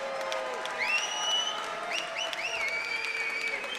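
Crowd at a Triton Fights middleweight championship MMA event applauding and cheering steadily, with whistles and shouts rising over the sustained clapping in the arena.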